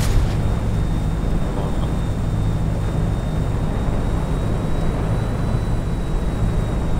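A steady, loud helicopter rotor and engine drone in the video game GTA 5, continuous and unchanging throughout with a faint high whine above it and no talk.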